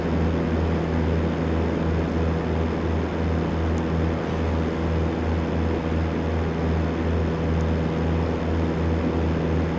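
A Cessna 172 taking off in the X-Plane 12 flight simulator, with a steady, loud, droning propeller engine hum that holds constant throughout and no voices.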